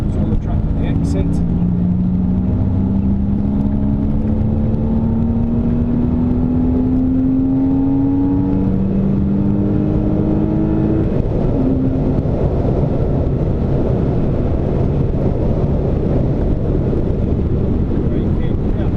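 Engine of a Renault Clio on the Silverstone circuit, loud and close, pitch rising steadily as it accelerates through a corner exit, then shifting up, with heavy wind buffeting on the microphone.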